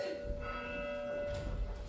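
Merry church bells ring on Christmas morning in an audio drama, a sustained, humming peal of overlapping tones that rings on steadily at moderate distance with no voices.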